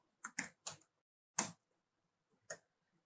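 Keys clack on a computer keyboard as a short word is typed into a code editor, five crisp, close taps in an uneven burst and then a pause.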